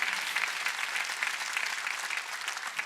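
Sustained applause from a church congregation, a dense continuous patter of many hands clapping at steady loudness with no pause.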